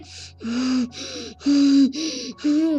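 A voice imitates a monster's heavy breathing: five loud, rasping, drawn-out breaths in a steady rhythm, close up.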